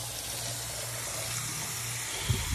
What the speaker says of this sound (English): we'll fill this up with some hot water.